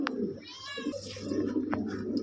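Lahori pigeons coo softly in a low, throaty rumble close by, with a couple of brief sharper calls cutting in.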